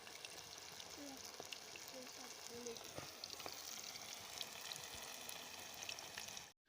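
Chicken and potato kuli pitha frying in oil kept at low heat, a steady quiet hiss and crackle throughout, fairly faint and even, ending abruptly, with no voice.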